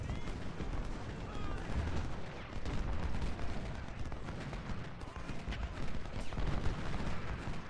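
Massed musket fire from Civil War infantry in Ultimate General: Civil War, a dense continuous crackle of distant volleys and rumbling battle noise.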